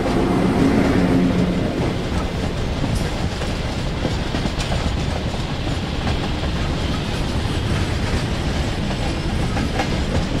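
Train wheels clattering and rumbling along rails near Vidyavihar on a Mumbai line, heard from aboard a moving train alongside the Chennai Express; a continuous loud, gritty roar with rhythmic clicks, no voices.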